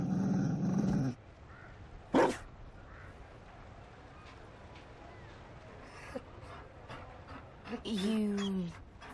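Mabari war dog from a fantasy role-playing game, giving a short, low growl and a brief vocal burst late on, with a spoken voice at the start and faint ambience between.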